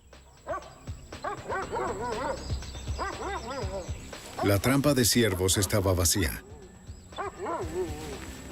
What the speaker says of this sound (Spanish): Los perros nos llevaron con rapidez a un árbol y estaban ladrando